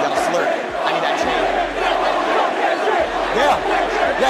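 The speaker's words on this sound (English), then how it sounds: "the crowd started taking Kendrick's name and, well, not in a good way" A dense festival crowd at Drake's Wireless show chants loudly and rhythmically against Kendrick, a massed roar of voices with deep thumping pulses beneath.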